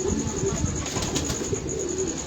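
A pigeon coos softly in a few low, repeated phrases, heard faintly against a steady background hum.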